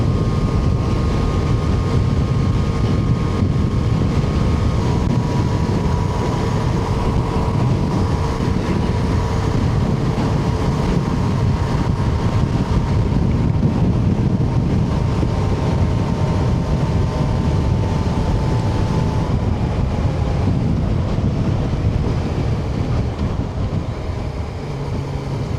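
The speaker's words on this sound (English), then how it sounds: "It's a bit windy on here." Riding a Yamaha Tracer 900 motorcycle on a windy day, a loud, constant roar of wind buffeting fills the whole stretch, with engine drone blended underneath.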